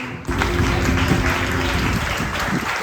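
Sustained, dense audience applause at a cultural performance program, a steady loud wash of many hands starting abruptly after a short quiet moment, with no talk over it.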